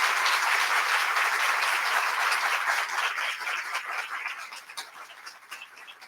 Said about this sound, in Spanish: Pido nuevamente un aplauso para ella.